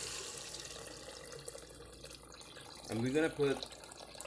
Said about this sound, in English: Now we're gonna proceed to add the water